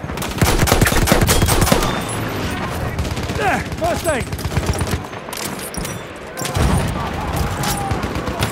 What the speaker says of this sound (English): Enemy machine gun over there.